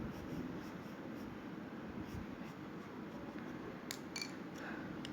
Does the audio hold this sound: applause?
no